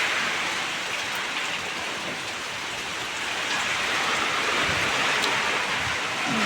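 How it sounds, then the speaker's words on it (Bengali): Heavy rain pours down steadily at a village home, a dense, continuous hiss of drops striking surfaces close by, with no one talking. "বৃষ্টি পড়তে আছে, প্রচুর বৃষ্টি পড়তে আছে।"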